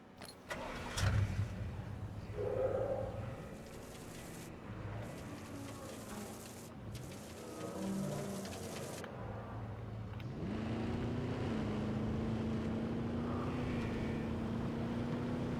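A park vehicle in Jurassic World Evolution 2 starts up and drives around, its mid-pitched engine rising and falling through several revving shifts before settling into a sustained steady drone, with faint ambient park sounds beneath.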